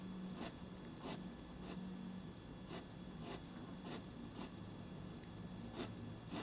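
A pencil hatches and draws on paper in quiet, evenly spaced scratchy strokes, repeated roughly every half second against a soft background hiss.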